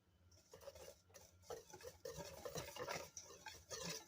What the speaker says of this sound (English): Now we're just going to mix this together to combine all the ingredients.